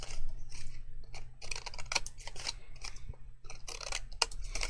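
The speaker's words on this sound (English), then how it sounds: "I'm just going to trim the last tab here" Scissors snip paper tabs from a craft gift box shaped like an ice cream cone, a run of sharp close cuts in quick irregular bursts over a quiet low hum.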